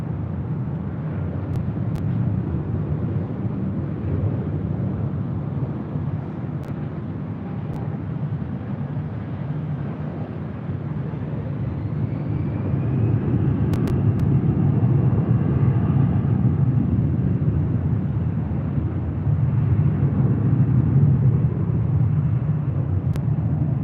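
Airliner taking off from runway 24 Left at Los Angeles International Airport, a continuous broad jet roar that swells slightly midway, heard from a distance and steady without speech.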